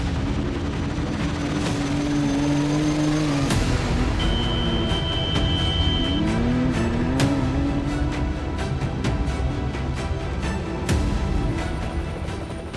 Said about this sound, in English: This is how it really feels to ride sand in a buggy.